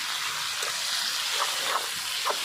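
Dried fish with salt, turmeric, chili powder and ginger-garlic paste fries in a pan, giving a steady close hiss and sizzle with a few soft scraping stirs.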